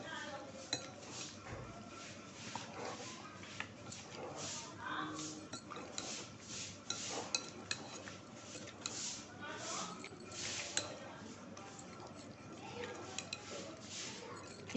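Chicken tikka marinade being stirred in a bowl, with repeated clinks and scrapes of a spoon against the dish and soft squishy mixing, under intermittent talk.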